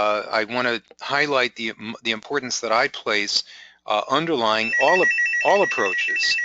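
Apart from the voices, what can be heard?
phone ringing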